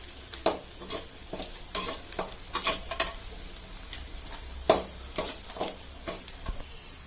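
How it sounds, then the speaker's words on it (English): Bay leaves fry in a pan for vada curry, with a steady soft sizzle punctuated by irregular scraping stirs of a spoon against the pan, close and moderately loud, no voices. "I'm adding about 6 pieces of bay leaf. And Just I fry this a very little while."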